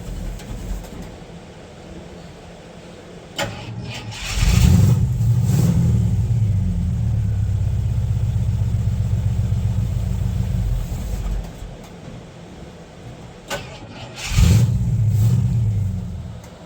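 A 1953 Ford F100 pickup engine, running rough and loaded up, revs in two loud bursts, one swelling and sustained for several seconds then dropping away, with a low idle rumble between.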